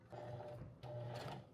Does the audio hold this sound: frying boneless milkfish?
no